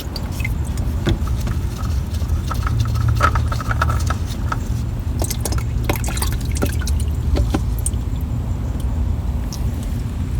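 Engine oil from the filter of a Toyota Corolla (2003–2013) splashes and drips into a catch bucket with a screen, a continuous close trickle with scattered drips and small metallic clinks.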